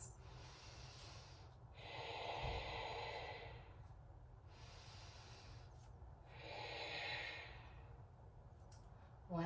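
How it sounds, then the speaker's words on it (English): Deep Ujjayi breaths during a yoga flow, two long, slow, hissing breath cycles close to the microphone, each a soft rising and falling rush of throat-constricted air, with no talking. "3 deep Ujjayi breaths."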